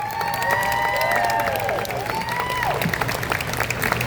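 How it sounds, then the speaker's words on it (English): An audience at SharkCon 2024 applauds and cheers for the Jaws panel, with steady clapping, whoops and rising whistles over a low hum. "can we have a round of applause for our Jaws panel?"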